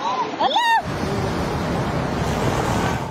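Floodwater rushes and churns steadily through a submerged house during a typhoon in Bacolod City, a continuous broadband roar that follows a brief burst of shouting voices.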